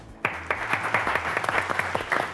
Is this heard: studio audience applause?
yes